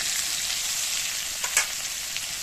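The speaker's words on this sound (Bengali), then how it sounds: "আলু আর কাঁচকলাটা খুব ভালোভাবে ভাজা হয়ে গেছে" Potatoes and green plantain frying in hot oil with a continuous bright sizzle and crackle, a few louder pops partway through, no talking.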